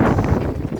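Wind gusts across the deck of a catamaran at sea, buffeting the microphone with a loud, steady rumble for just under a second.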